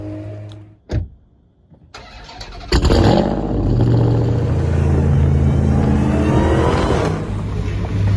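A Dodge Hellcat fires up with a sudden loud bark, then settles into a deep, heavy idle rumble with slight revs as it rolls in. The sound is close and powerful, and a faint click and short quiet gap come before the start.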